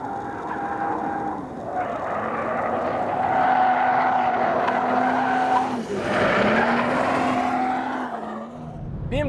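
A 2014 BMW M235i accelerating, engine note rising through the revs with a brief drop at a gear change before climbing again, loud and close, a strained high tone riding over the engine.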